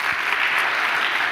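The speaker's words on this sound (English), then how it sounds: "I would like to have another applause for Alberto Espin." A short, steady burst of audience applause at an academic career development workshop, even and moderately loud throughout.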